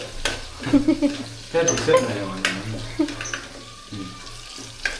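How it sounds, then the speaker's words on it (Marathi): Garlic browns in hot oil for a black masala mutton dish, giving a soft, steady sizzle close by, partly masked by people talking over it. "थोडीशी ती ब्राऊन होऊ द्या लसूण एक मिनटात ब्राऊन तेल तापलं"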